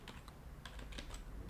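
Quick computer keyboard keystrokes tapping in a short irregular burst while working in the vim text editor, close and clear against a quiet room with no talking.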